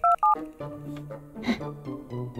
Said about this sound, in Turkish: Ay, bir telefon daha etmeliyim.